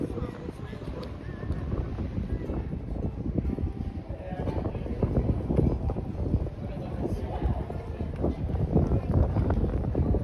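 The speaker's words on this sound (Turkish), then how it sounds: "çok fazla rüzgar var" Strong wind on an evening city walk in Morocco buffets the microphone with a constant low rumble and gusty roar throughout, steady and loud with no clear voices.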